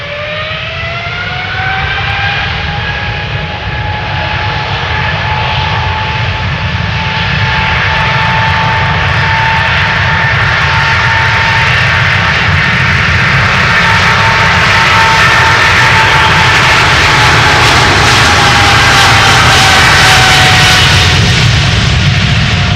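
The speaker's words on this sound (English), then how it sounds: "Choina Southern Cargo to Shanghai. 777 freighter, 15 years old," A 15-year-old China Southern Cargo Boeing 777 freighter jet takes off from Schiphol's Polderbaan bound for Shanghai, a loud, close, sustained engine roar with a rising whine that slowly shifts pitch as it passes.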